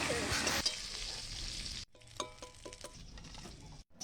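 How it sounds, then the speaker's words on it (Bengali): Fish fry in hot oil in a wok, with a loud hissing sizzle that drops suddenly to a quieter crackle and light stirring scrapes, all close and with no talking. "মাছগুলা দিই উল্টে পাল্টে লাল লাল করে"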